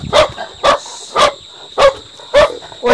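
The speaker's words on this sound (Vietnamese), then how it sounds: "Chó gì đó?" A dog at a rural village house barks in a steady series of six sharp barks at even intervals, fairly loud and close, with no talk over them.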